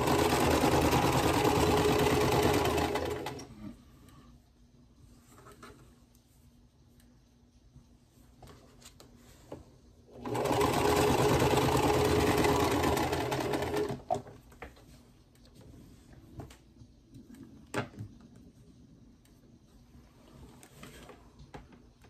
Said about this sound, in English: the other side of the tires are these units that I'm sewing together now.